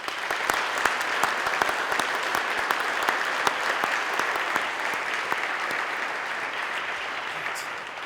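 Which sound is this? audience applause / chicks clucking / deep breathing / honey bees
audience applause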